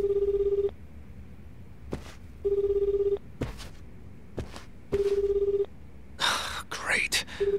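A phone rings in the video game Like a Dragon: Infinite Wealth, three evenly spaced electronic tone bursts with gaps between them, mixed with game sounds and a voice.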